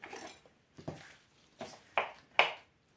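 A knife chops salad greens into coarse pieces, five crisp, separate cuts spaced unevenly over a few seconds, close and clear with near silence between strokes.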